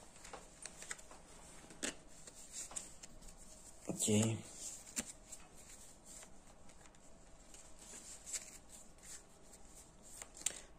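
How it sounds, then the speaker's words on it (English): Playing cards shuffled during a solo game of the Enemy Action Kharkov board wargame: one short, close riffle burst stands out midway through steady talk, with other faint table clicks around it. "their card gets shuffled in"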